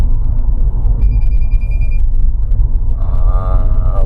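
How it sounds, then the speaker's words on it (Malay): Proton X70 lane departure warning chiming as a steady beeping tone inside the cabin, heard over a loud low engine and road rumble, with a second harmonic alert pattern following. "yang tu apa ni dipanggil lane departure warning"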